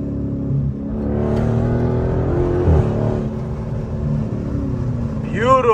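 Dodge Challenger SRT 392 with 64,000 miles, its V8 engine rumbling steadily at close range and swelling as it downshifts, with a voice talking over the engine.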